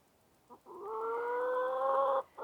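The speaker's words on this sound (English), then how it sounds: "I have chickens all around the tripod." Chickens gathered close around a tripod, one giving a brief cluck then a long, sustained drawn-out call, near and fairly faint, with no talking.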